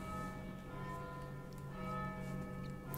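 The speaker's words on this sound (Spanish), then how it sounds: "Suenan las campanas indicando el inexorable paso de otra hora." Church bells tolling the hour in the Vagrant Story video game, a steady sustained ringing with layered metallic overtones that hums on evenly without a break, fairly faint and heard alone.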